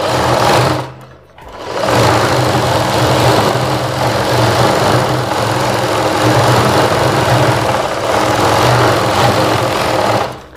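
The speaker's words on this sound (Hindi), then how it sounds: "सबसे पहले हमें एक साइड में मगजी के साइड में सिलाई लगा देनी है इस प्रकार से।" A sewing machine runs steadily while stitching along the side of magji trim fabric for a Rajputi poshak, with a close mechanical whir. The whir pauses briefly near the start, then hums on without a break to the end.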